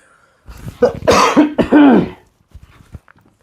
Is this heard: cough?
yes